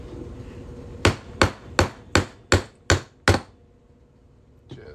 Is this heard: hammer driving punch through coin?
yes